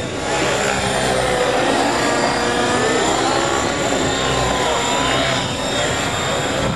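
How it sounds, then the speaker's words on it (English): An Align model helicopter's steady, high-pitched engine and rotor whine drones continuously, loud and close, during stunt maneuvers at IRCHA 2011, with faint background voices. "Two amazing helicopter pilots doing some maneuvers here"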